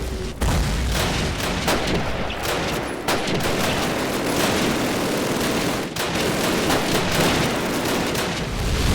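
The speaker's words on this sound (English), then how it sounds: "We get down just in time for some artillery to slam into the German lines." Heavy artillery and rapid gunfire fill a Call of Duty: United Offensive battle at Red Square, with dense overlapping booms and bursts of shots that go on without pause.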